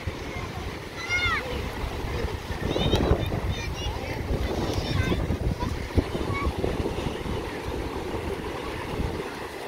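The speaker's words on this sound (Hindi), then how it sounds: "पानी की खूबसूरत आवाज़ें।" Waves wash and break along a beach in Karachi, Pakistan, a continuous loud surf rush mixed with wind buffeting the microphone, while children shout and people talk nearby throughout.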